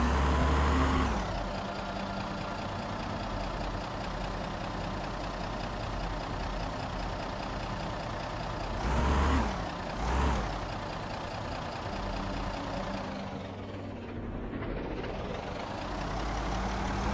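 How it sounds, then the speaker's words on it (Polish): A car engine runs steadily in the survival video game Project Zomboid, a loud, even drone with a couple of brief surges near the middle and a dip toward the end, with no talking. "gasimy silnik"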